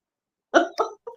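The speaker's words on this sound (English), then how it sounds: "Had to clear my throat." A person clears their throat with two quick rough bursts and a short fainter third, loud and close in an otherwise quiet room.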